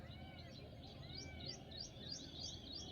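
House sparrows chirp in a village, a steady stream of repeated short tweets running throughout over a constant low rumble of background noise.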